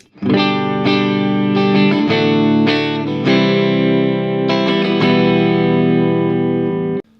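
A clean electric guitar tone with no chorus effect rings out in sustained chords, strummed several times and left to ring, steady and fairly loud with no talking.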